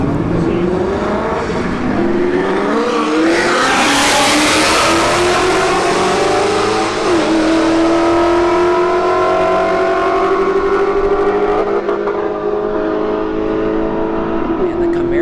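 A Chevrolet Camaro SS launches against a Mustang in a drag race at a motorsports park, a loud rising engine roar with a burst of tire noise early, then shifting upward through gears as it pulls away.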